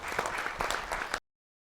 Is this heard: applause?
yes